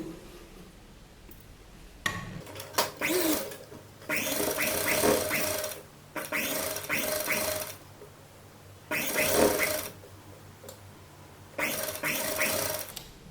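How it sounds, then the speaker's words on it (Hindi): A sewing machine stitches along the neck edge of a kurta in several steady whirring runs, each a few seconds long with short pauses between, close and clear. "अब हम यहाँ किनारे सिलाई लगाएंगे"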